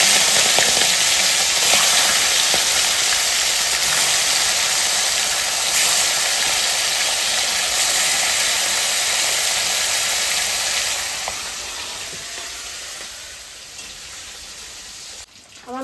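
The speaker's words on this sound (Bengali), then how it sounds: "এই যে মাছ আমি তেলে ছেড়ে" Fish sizzles steadily in hot fish fat with onion and green chili, a dense, close hiss that holds evenly before easing off near the end.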